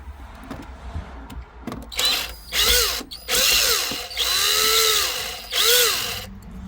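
A cordless power drill spins out the radio screws in a 2014 BMW X1 dashboard, four close bursts of whining motor with rising and falling pitch, separated by short pauses and faint clicks.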